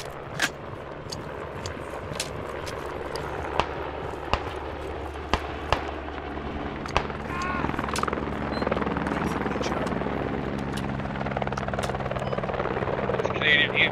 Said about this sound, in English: There's a lot of choppers in here.